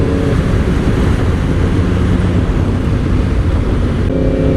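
A Yamaha R1 motorcycle cruising in sixth gear produces a steady, loud engine drone with constant wind roar, holding an even tone throughout with no talk.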